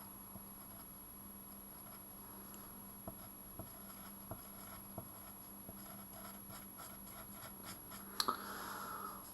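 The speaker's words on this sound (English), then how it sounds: "And then we'll pencil that in our diagram." A pencil taps and scratches on paper in quiet, sparse strokes, ending with a brief louder scribble, heard close up with no voices.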